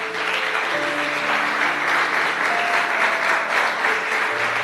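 A church congregation applauds steadily, a dense wash of clapping that holds at full strength throughout, with faint tonal sounds mixed in beneath it.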